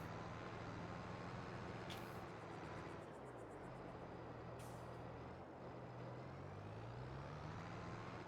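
A heavy vehicle in Farming Simulator 22 drones steadily with a low engine hum that shifts pitch as it drives, broken by two short hissing bursts like air brakes.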